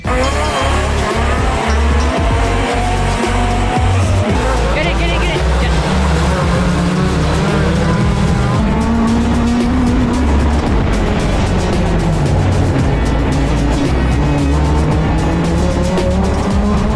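Race cars in a last chance qualifier: loud, close engines roar and shift pitch continuously as the cars race past, with tire squeal and skidding mixed into a dense, unbroken wall of racing noise.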